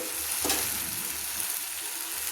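Spring onion stalks and prawns fried in a pan give a steady close sizzle, broken by one brief stirring scrape near the start.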